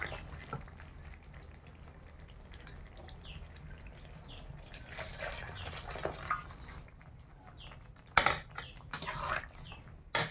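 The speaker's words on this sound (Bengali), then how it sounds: "এইবার আমি গরম জল দেবো আবার" Hot water pours into a pan of chicken curry in a steady, soft wash that swells midway, followed by a few louder clatters of a utensil against the pan near the end.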